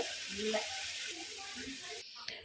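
Soft sizzling of thuthuvalai leaves frying in a pan as they are stirred, a faint steady hiss with low scraping touches, cutting off near the end.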